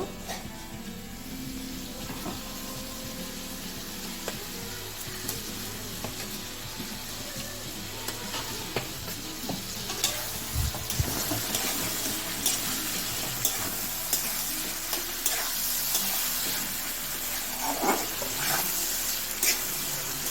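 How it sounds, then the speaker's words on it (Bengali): Fried potatoes tossed with spice masala in a pan, a soft continuous sizzle with scraping stirs, some louder bumps midway and faint water sounds, no talking. "আলুর সঙ্গে ভালো করে মশলাটা আবার কষিয়ে নেব।"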